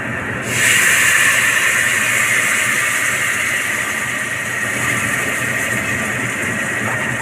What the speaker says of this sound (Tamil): இப்போ வந்து புளி ஊற்றணும்.